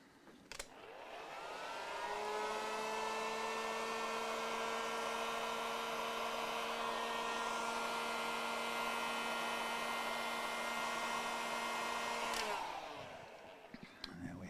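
A hot air gun runs during a Warmoth-based partscaster guitar assembly, whirring up to a steady loud tone, holding for about ten seconds, then winding down and cutting off with a click.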